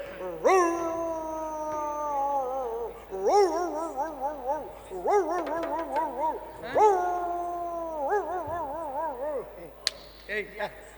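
A voice imitates an old, sick dog howling, drawn-out wavering howls repeated five or six times, ending in a few short whimpers, in a comedy performance.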